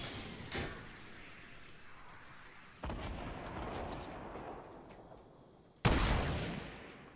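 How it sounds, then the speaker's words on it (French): Gunfire in the video game Fortnite, three sharp loud shots spaced a few seconds apart, each followed by a decaying rumble, with no talking. "J'y tire en même temps que lui."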